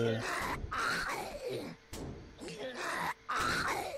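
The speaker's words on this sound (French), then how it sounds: "j'ai entendu une respiration, j'espère que c'est lui et pas un autre" A zombie in a video game breathes and groans in repeated rasping, guttural bursts close by, rising and falling in a rough rhythm with short gaps between them.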